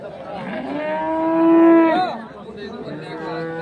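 A cow lets out one long, loud moo that rises and then tails off, at a cattle market in Chitradurga, with people chattering in the background.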